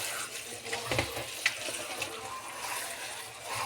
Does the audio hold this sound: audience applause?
no